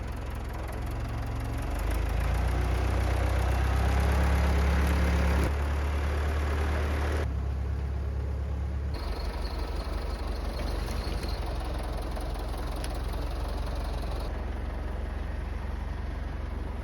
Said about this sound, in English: move the tractor out of the bushes